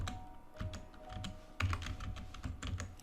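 Text typed on a computer keyboard while editing a WordPress blog theme, giving a brisk, close patter of key clicks in irregular bursts with a slightly louder tap midway, no speech.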